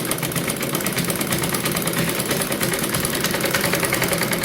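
A sewing machine stitches a trouser leg hem, a fast, steady mechanical whirring with continuous rapid needle chatter, close and constant throughout.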